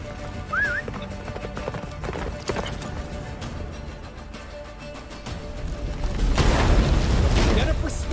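Roach, a horse in The Witcher 3, gallops with rapid clip-clopping hoofbeats amid game sounds, and a heavy rumbling surge swells in near the end.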